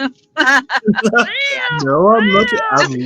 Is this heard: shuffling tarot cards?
no